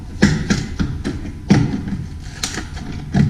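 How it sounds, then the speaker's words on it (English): Several sharp metallic taps and knocks at uneven intervals, close up, as a check valve ball is hammered and punched out of a Hummer H2 fuel tank. "you have to knock this ball out"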